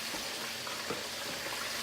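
Chicken fries in hot oil with a close, steady crackling sizzle and small pops throughout, with no voices.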